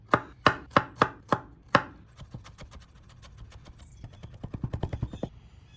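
A knife mincing fresh ginger on a cutting board: several sharp, evenly spaced chops, then quieter quick taps and a fast rapid-fire burst, heard up close with no talking.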